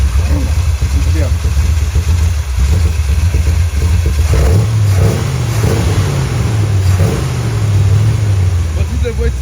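Big old American car engine revving and rumbling loudly up close, with rising and falling pitch sweeps over a steady idle, while people talk alongside.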